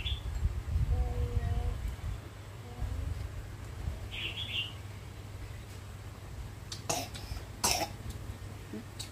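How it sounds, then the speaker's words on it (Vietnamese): A child at home coughs twice, in sharp bursts near the end, after a stretch of quiet background with a brief bird chirp. "Nhóc em nó ho quá trời luôn"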